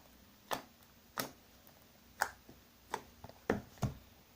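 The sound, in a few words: slime being stretched and clicking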